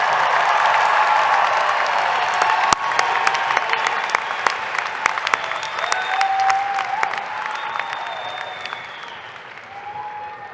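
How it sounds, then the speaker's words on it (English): Sustained applause from a large commencement audience for graduating undergraduates, dense clapping that gradually thins toward the end, with a few faint cheers and whistles mixed in. "One more round of applause for our undergraduate."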